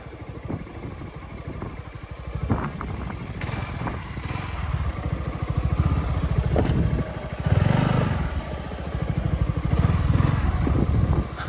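A motorbike climbs a steep road on Nusa Penida, its engine a close, labouring rumble that rises and falls as the rider works the throttle, with rattling over the rough surface.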